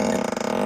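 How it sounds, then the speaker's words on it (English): A Tesla's easter-egg fart sound effect triggered by the turn signal, a short, loud, buzzy, sputtering burst lasting well under a second with no talking over it. "Yeah, fart on turn signal."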